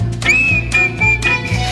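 Sustained, bright whistled melody from a musical number at Disney's Magic Kingdom in 2013, carried in a few long phrases over a steady, rhythmic musical accompaniment.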